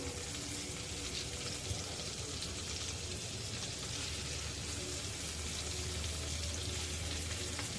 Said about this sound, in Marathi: पाच मिनटं झालेली आहेत मच्छी खालच्या बाजूने फ्राय झालेली आहे पलटून घेऊया